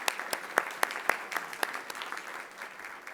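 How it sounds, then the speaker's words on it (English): Faint, distant applause from an audience at an awards ceremony, with sharper individual claps standing out over a soft wash of clapping that fades slightly toward the end. "give a warm round of applause to our entertainment this morning, Franklin Court"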